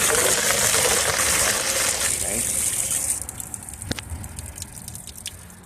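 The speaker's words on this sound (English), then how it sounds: "Okay, so I'm gonna put more water in here." Water pours into a container holding used coffee grounds, a steady splashing gush for a few seconds that gives way to sparse drips and trickles.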